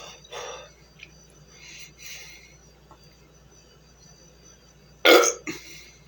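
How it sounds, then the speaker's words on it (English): A single loud, raspy burp after drinking 7 Up erupts near the end, close to the mic, preceded by a few faint shuffles and quieter bursts of movement. "And then burp as loud as I can."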